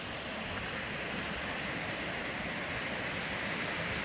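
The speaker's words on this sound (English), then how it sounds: "One of the beauties of hiking during wet times is that waterfalls are fantastic." A waterfall on a wet-season hiking trail at Mount Granya roars as a steady, dense rush of falling water, loud and unbroken throughout with no voices.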